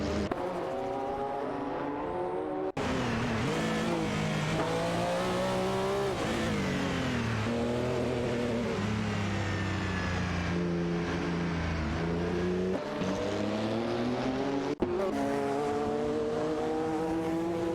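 Race cars, a Porsche 911 GT1 and a Ferrari F40 LM, roar through a racing game with steady engine drones whose pitch rises and falls as gears shift, loud and continuous throughout with no talking.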